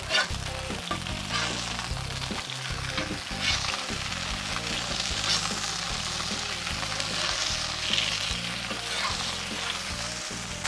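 Burger patties, Shake Shack copycat style, sizzle on a grill in a constant close crackling hiss, with scattered low knocks and spatula scrapes and no talking.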